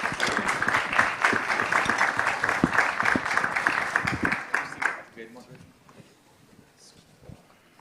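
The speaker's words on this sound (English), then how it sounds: "Give them a hearty round of applause." Hearty applause for panelists at a summit, steady clapping for about five seconds that then fades out, leaving a quiet room with faint speech.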